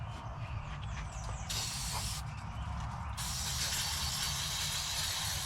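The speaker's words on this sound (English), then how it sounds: "I need some brake cleaner." Brake cleaner sprays in bursts of bright hiss over a steady low rumble during a motorcycle tune-up, with short gaps between the sprays and no talking.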